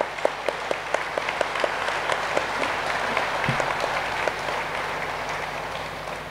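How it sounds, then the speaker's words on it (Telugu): An audience at a spiritual talk event on Buddhi Yogam breaks into steady, sustained applause, a dense wash of clapping with a few sharper individual claps standing out near the start, moderately loud and filling the room. "గట్టిగా మనం చప్పట్లు కొడదాం"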